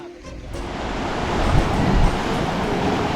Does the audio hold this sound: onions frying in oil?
no